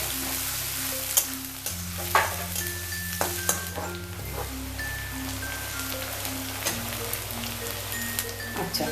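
Grated ginger goes into a hot frying pan for a village-style chicken dish, giving a steady close sizzle broken by sharp clinks and scrapes of a utensil against the pan, with music playing quietly underneath.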